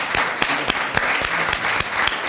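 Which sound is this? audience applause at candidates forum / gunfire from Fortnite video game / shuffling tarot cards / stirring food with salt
audience applause at candidates forum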